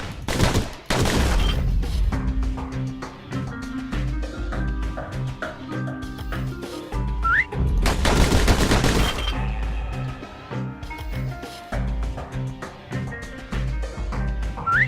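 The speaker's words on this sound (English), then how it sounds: "Those pistols could spit out rounds just as quick as you could pull the trigger" Rapid bursts of pistol fire in the action game Bastion, loud and dense, crackling over a steady game soundtrack with a couple of heavier volleys standing out.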